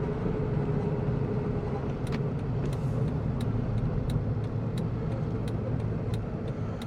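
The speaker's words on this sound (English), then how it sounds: "I'm going to let this car overtake me" A car on a town road in Geroskipou overtaking, heard as a steady engine and tyre hum from inside a moving vehicle, with faint ticking from an indicator throughout.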